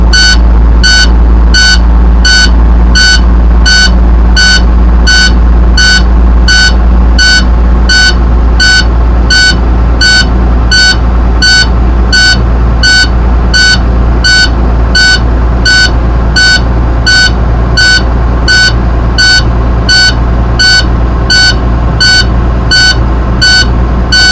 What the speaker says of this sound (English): once it reaches between 60 and 70, the low pressure alarm will turn on.